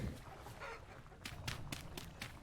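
Hens clucking in the farming survival game Vintage Story, a few soft, short cluck bursts under steady low ambient noise, fairly quiet and close.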